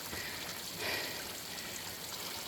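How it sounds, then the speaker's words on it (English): A small, drippy waterfall trickling and splashing nearby outdoors, a steady watery patter with one slightly louder splash partway through and no voices. "Little drippy waterfall."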